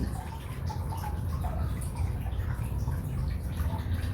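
Water spraying over rose bushes to rinse the leaves, a steady close hiss and patter of droplets running unbroken throughout.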